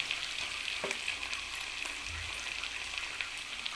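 Onions frying in a pan give a continuous soft hiss and crackle at low level, steady throughout with a few faint stirring taps.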